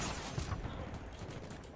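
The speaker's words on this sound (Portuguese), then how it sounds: "eu tô tomando tiro do nada" Gunfire in the video game Battlefield: Bad Company 2, a fairly faint, continuous crackle of shots with no clear separate bursts.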